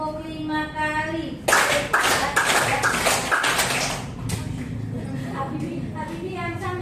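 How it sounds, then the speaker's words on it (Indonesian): Students in a classroom clap together in a quick series of sharp, unified group claps lasting a few seconds. The teacher talks just before, and the room murmurs afterward. "Tepuk 5 kali."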